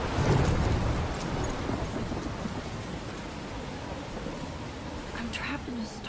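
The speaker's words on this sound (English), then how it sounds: "I'm trapped in a storm?" Thunderstorm in the Life is Strange video game: steady heavy rain with low rumbling thunder, loudest at the start, with a voice speaking faintly over the storm near the end.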